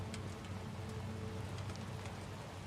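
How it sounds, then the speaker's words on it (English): Soft, steady rain in the video game Death Stranding 2 patters on surfaces, a constant hiss with scattered droplet taps, quiet and unbroken. "Actual rain, not timefall"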